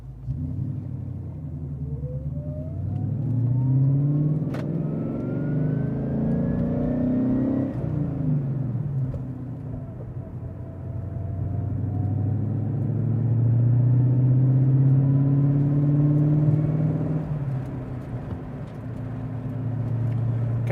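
A 2011 Shelby GT350 pulls away from first gear and accelerates through the gears, engine note rising and dropping at each shift in a strong, close, continuous rumble.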